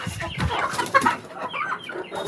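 Chickens cluck inside a backyard coop, several birds calling in short irregular bursts at close range, with one brief louder squawk midway and no talking.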